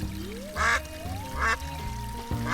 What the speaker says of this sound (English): I can quack?